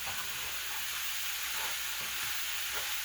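Cabbage cooking in a covered pot gives a steady, dense hiss of sizzling and steam, close and continuous with no talk.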